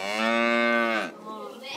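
A single cow lows loudly and close for about a second in a barn, followed by quieter rustling and background sounds.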